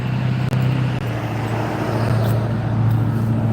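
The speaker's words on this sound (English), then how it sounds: "this loud-ass truck" A loud truck rumbling by on a road, a steady, heavy engine roar filling the whole stretch with a low droning hum and no voices over it.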